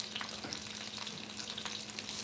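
Fish skin, seasoned with dill and thyme, sizzles steadily in a hot frying pan, a close, even crackling hiss with small pops and no voices.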